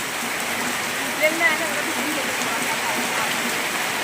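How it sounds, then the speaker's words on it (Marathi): Steady rain hisses across the whole clip, a dense even patter on surfaces with no voices. "आनंद घ्या पावसाचा आनंद घ्या"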